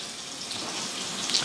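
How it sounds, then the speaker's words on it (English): Tap water runs steadily into a pot being filled for homemade bedtime tea, a continuous close hiss with no talk. "So I'm finna put some water."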